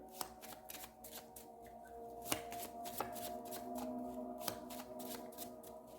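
A deck of tarot cards being shuffled by hand during a reading, giving a steady run of soft riffling and slapping card sounds with a few sharper snaps, close and fairly quiet, with no talking.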